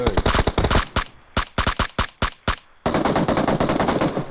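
Gunfire in the mobile battle royale game PUBG Mobile: rapid automatic bursts of sharp, loud shots, a stuttering string of single cracks, then a sustained dense volley at close range.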